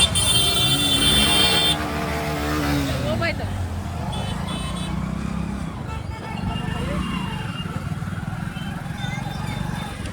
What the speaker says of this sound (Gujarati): હવે ટ્રાફિક એટલું છે જોરદાર